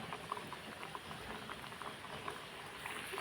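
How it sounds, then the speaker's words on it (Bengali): Egg pitha dropped one by one into hot oil bubble in a dense, even sizzle with soft popping throughout, steady and fairly quiet with no talking. "তেলটা গরম হয়ে গেছে এখন আমি এক এক করে পিঠাগুলো দিয়ে দিচ্ছি"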